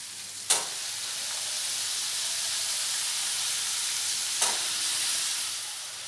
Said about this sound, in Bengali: এবার ওতে দিয়ে দেবো আলু।